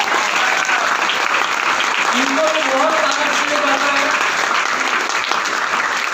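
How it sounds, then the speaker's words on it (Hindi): Steady, loud applause from an audience fills an indoor sales training boot camp, a continuous wash of clapping heard up close, with a voice speaking over it. "तो जितनी तालियां उनके लिए बजाना है ना, उनसे ज्यादा तालियां इनके लिए बजाना है।"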